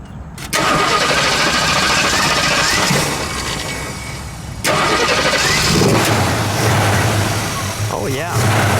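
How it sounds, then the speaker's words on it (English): A 1971 AMC Hornet SC 360 V8 with ram air making a hard heat-soaked start: loud cranking that catches into a rough, noisy idle, briefly cut and restarted, heard up close with voices over it. "Well, it was a heat-soaked start. That's why it was so hard to start."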